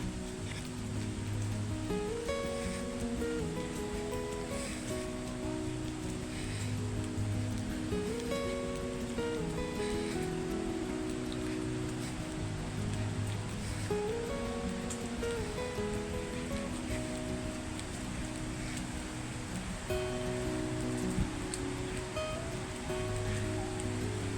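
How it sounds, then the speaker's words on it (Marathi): A waterfall near Baneshwar temple at Nasrapur, Pune, set among forest, pours as a steady, dense rush of water throughout, with tonal music-like layers running over it. "आता आवाज येत असेल तुम्हाला धबधब्याचा"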